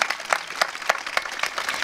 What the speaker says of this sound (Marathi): एकदा सर्वांनी आयोजकांच्या नावाने टाळ्या वाजवा.